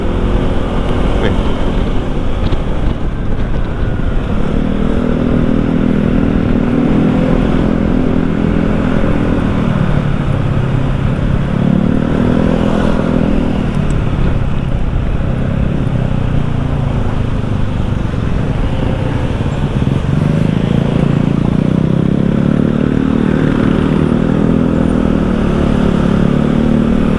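A Honda ADV 160 scooter engine with about 22,000 km on it, running and revving, its drone rising and falling in several swells over a steady mechanical clatter, with someone talking over it.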